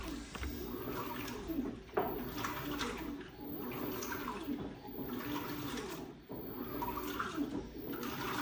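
An LG 16 kg top-load washing machine churns through its rinse cycle, with water sloshing and swishing in steady surges and brief pauses as the drum agitates, close and continuous.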